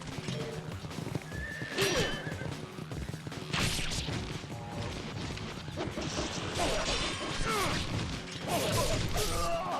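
In the video game Ninja Gaiden Sigma, a horse whinnies and neighs repeatedly over clip-clopping hooves, mixed with crashing and thudding game effects throughout.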